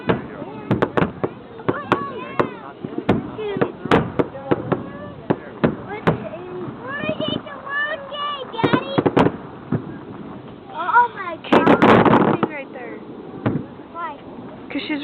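Fireworks explode in a rapid series of sharp, loud bangs and crackles that echo off a nearby cliff, with a dense crackling burst toward the end and people talking in between.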